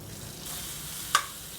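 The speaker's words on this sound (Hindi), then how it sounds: "ज़ीरा और अजवाइन को फ्राई करने के बाद अब हम इसमें डाल देंगे हमारा अदरक लहसुन" Cumin, ajwain, ginger and garlic frying in hot oil for samosa filling give a soft steady sizzle, with one brief sharp clink or spatter near the end.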